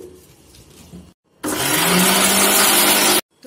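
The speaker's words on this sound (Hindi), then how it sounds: "और अब हम मिक्सी चला देंगे।" A kitchen mixer grinder grinding coriander and mint chutney whirs loudly for about two seconds, starting abruptly after a quieter stretch and cutting off sharply.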